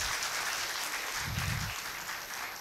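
An audience applauds at a teachers conference in a hotel courtyard, a brief, fairly faint patter of clapping that holds steady for a couple of seconds.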